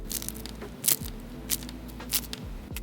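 Crisp breaded fried chicken thigh being sliced up close, with faint micro-crackles under a low steady hum and several sharp crunchy cuts spaced about half a second apart.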